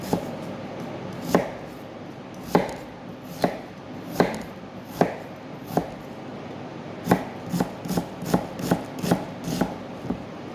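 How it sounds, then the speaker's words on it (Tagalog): Onion sliced with a knife on a cutting board in a home kitchen, sharp distinct chops spaced about a second apart that quicken into a faster run of cuts near the end. "hihiway natin yung ating onion"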